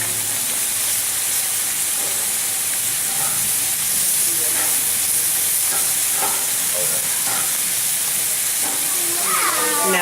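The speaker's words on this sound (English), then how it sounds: "So I'm just going to saute it lightly on the grill" Pork sautéing on a grill, a constant loud sizzle and hiss with faint stirring clinks underneath, steady throughout without breaks.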